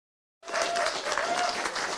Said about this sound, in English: Round of applause for the Wandabents.